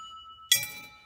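Coins clink into a ding pot in one bright metallic chink that rings briefly, faint and alone.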